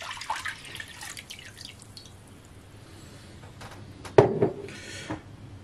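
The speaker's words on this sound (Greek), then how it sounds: "θα βάλουμε 800 γραμμάρια νερό" Water poured while mixing pita dough, heard as light dripping and trickling that ends in one sharp, louder splash near the end; nobody speaks.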